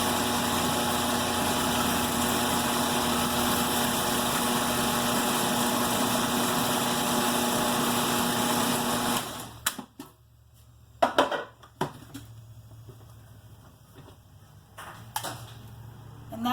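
A blender whirs steadily while mixing fresh pumpkin into a puree. The motor runs continuously for about nine seconds and then cuts out, leaving scattered clicks and clatter from the jar and lid.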